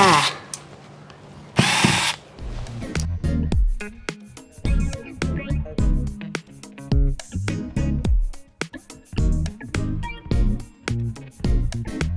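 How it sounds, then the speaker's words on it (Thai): An electric screwdriver removes screws from an OPPO A15 phone during an LCD screen repair, giving short repeated whirring bursts close by, with a brief louder hiss near the start and someone speaking over part of it. "ถอดน็อตได้เลยค่ะ"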